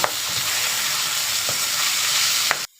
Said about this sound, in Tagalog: Una ko na nalagay atay, pipirtuhin lang natin siya.